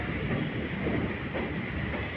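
A Bengaluru city train rumbles steadily along its rails, a continuous dense roar with faint rhythmic clatter throughout.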